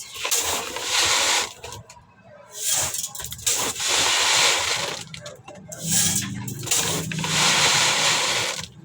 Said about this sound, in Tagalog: Punuin natin yung lalagyanan natin.